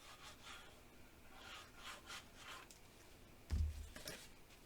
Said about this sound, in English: and burnish.